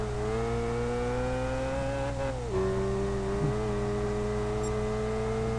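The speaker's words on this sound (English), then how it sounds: "I prefer to have the sound of the engine roaring instead of the jazz music they have on" A Toyota 86 GT '12 engine in Gran Turismo 5 roars steadily with a loud, sustained drone that briefly rises, then drops in pitch at a gear shift and carries on.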